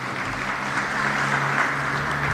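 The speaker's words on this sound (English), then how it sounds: "Let's give him a round of applause for what he does." A crowd applauding steadily at the unveiling of an electric transit bus, a dense wash of clapping from many hands at moderate volume, with no talking over it.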